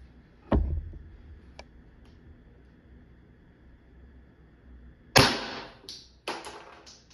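A First Strike foam dart blaster fires with one sharp, close pop, followed by a few fainter clicks and then two loud mechanical snaps of handling later on.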